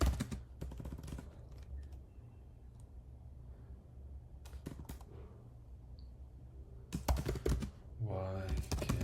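Typing on a computer keyboard comes in quick rapid bursts of close clicking separated by quieter pauses, with a faint hum underneath and a voice speaking briefly in places.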